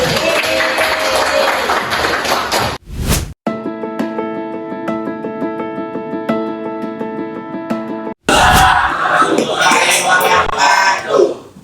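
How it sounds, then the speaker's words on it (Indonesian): A classroom audience bursts into dense applause, breaks off for a stretch of music, then claps loudly again toward the end. "Tepuk tangan buat kita semua."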